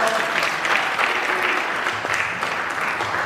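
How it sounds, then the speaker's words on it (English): Audience at an Africa Day celebration clapping steadily, a dense, loud, continuous applause from a room full of people. "Please give them a round of applause."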